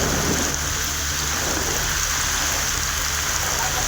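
Heavy rain pours in a dense, steady hiss during a thunderstorm in Tamil Nadu, a loud continuous wash with a low rumble underneath and no voices.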